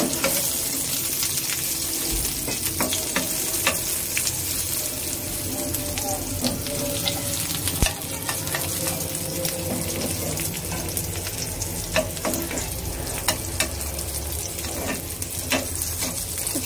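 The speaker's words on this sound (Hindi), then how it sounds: "प्याज मेरा हो चुका है" Onions frying in a pan for a potato snack, a steady sizzle with scattered clicks and scrapes of stirring, moderately close and without talk.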